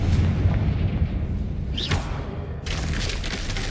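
A Confringo blasting spell goes off in Hogwarts Legacy, a loud, deep boom rolling over a rumbling background, with a sharper burst breaking out partway through.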